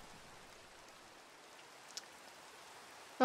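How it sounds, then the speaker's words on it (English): Rain in a video game makes a faint, steady hiss that carries on evenly throughout, with one tiny click partway through and a sharper tap at the very end. "Oh yeah, I love the rain effect too."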